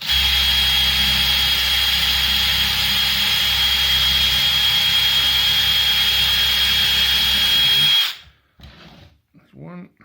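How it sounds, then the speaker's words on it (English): A power drill runs continuously at high speed through a consumer unit panel, a loud, steady whine for about eight seconds, then stops abruptly, leaving faint handling noises. "Increase the speed of the drill might help, I guess."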